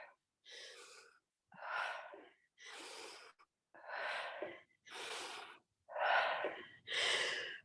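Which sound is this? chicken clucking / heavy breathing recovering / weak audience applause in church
heavy breathing recovering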